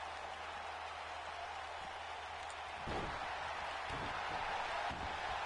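A virtual wrestling crowd in WWE 2K19 claps and cheers as a steady, wash-like roar of applause. It stays moderate and continuous, swelling slightly toward the end.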